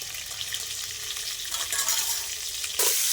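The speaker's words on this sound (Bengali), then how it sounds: "ডিমটা আমি দেখুন লাল লাল করে ভেজে নিয়েছি" Boiled eggs, dusted with turmeric and salt, frying in a pan for egg biryani, with a steady crackling sizzle and occasional stirring scrapes that grow louder near the end.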